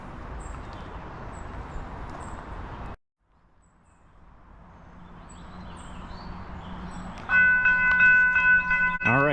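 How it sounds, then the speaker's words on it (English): A passenger train approaches on railroad tracks beside a river, its low rumble growing steadily after a brief silence and ending in a loud, sustained tonal squeal or horn-like whine as it nears. "we have a train coming, so I think I'll just stand here and wait till the train comes"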